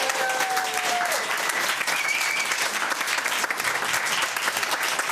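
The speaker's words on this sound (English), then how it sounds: "let us all give him a huge round of applause" Audience at a Boulder city council meeting giving a council member a big round of applause, a continuous loud burst of many clapping hands filling the room with a few whistles early on.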